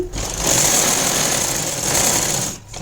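Sewing machine stitching plain blouse fabric, a steady fast mechanical whir running continuously at close range for a few seconds before stopping.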